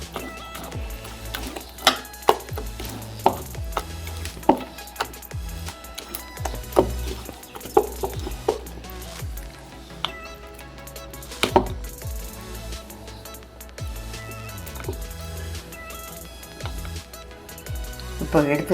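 Mysore bonda batter being beaten by hand in a bowl, giving repeated wet slaps and thumps in an uneven rhythm, close and prominent, with a voice talking alongside.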